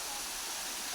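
Yaganak Falls near Calauag, Quezon pours and rushes as a continuous broadband roar of falling and flowing river water, steady and close, with no voices.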